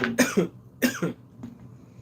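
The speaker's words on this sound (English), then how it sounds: "I'm probably going to be coughing all throughout this." Two harsh, close coughs in quick succession, followed by a short softer exhale.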